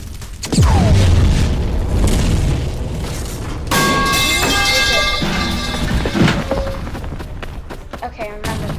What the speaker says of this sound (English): we know there's gonna be an explosion there